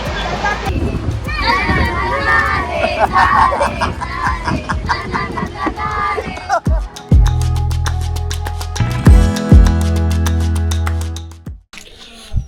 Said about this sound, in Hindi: स्टेशन पे थोड़ी थोड़ी भीड़ हो चुकी है